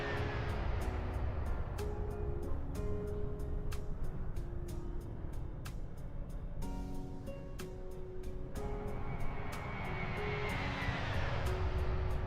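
A simulated Fenix A320 airliner makes a flyby in a flight simulator, with a soft engine hum and whine rising toward the end and sharp periodic clicks running throughout.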